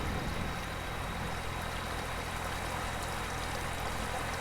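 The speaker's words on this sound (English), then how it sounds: "A lot of water coming off a mountain." Steady rushing of runoff water coming off a mountain and pouring through a road culvert, a constant, even wash of noise without pauses and no talk.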